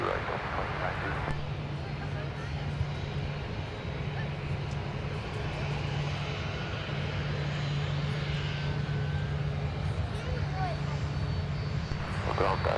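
An airplane at Minneapolis–Saint Paul airport on runway 12 right, a steady loud engine roar that holds throughout with a low sustained drone, while radio voices talk over it.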